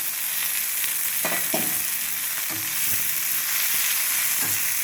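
Coconut and coriander leaves sauté in a pan with a continuous even sizzle, broken by several soft stirring scrapes spaced across the clip.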